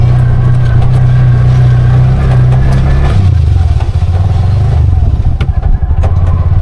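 A Bajaj RE auto rickshaw engine runs loud and close on a test drive, giving a steady low rumble that drops into a choppier, pulsing tone midway.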